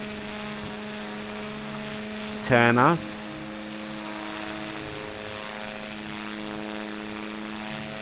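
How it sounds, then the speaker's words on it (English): A slow propeller plane's engine drones in a VR flight game, a steady hum with layered tonal harmonics running throughout; someone speaks briefly over it in the middle. "This plane is kind of forgiving since it goes slow."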